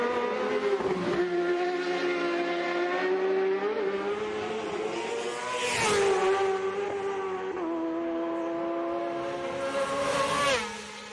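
Racing motorcycle engines screaming at high RPM during the Isle of Man TT road race, a loud sustained tonal roar that rises and falls as bikes pass close, with no talk over it.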